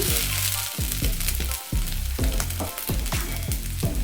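Close, loud sizzling from a pan while methi chaman is cooked, with regular stirring scrapes cutting through the steady frying hiss.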